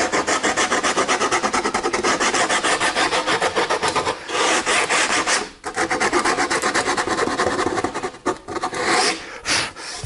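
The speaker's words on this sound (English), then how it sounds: "I'm sanding heavy on each end and avoiding that center spot" Steady, rapid rasping strokes of coarse sandpaper by hand on wooden pergola joist ends, loud and close, with brief pauses between bursts of scrubbing.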